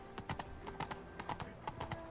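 Quick, rhythmic hoofbeats of a horse galloping in Witcher 3, close and clear, repeating in uneven pairs over a low background of ambient game sound.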